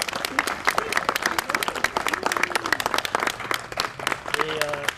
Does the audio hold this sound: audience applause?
yes